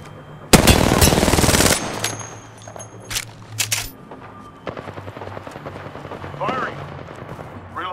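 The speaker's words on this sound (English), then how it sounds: "Listen up, I'm getting shot at." Automatic gunfire in the video game Apex Legends, a loud sustained burst of rapid shots followed by a few scattered single shots, with game effects and some voice between them.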